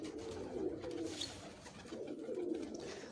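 Pigeons kept by a Punjabi fancier coo in two low, rolling phrases, one early and one late, steady and fairly close over a soft background hiss.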